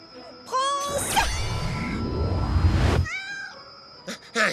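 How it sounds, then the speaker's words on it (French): Cartoon kitten meowing in a superhero animation, short high meows near and clear, then a loud whooshing burst, then more meows. "Un chaton?"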